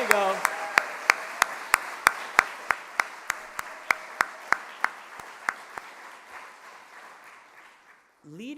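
An audience at a college development day opening session claps in a steady unison rhythm, sharp regular claps that start strong and gradually thin and fade out over several seconds, ending in a short quiet gap.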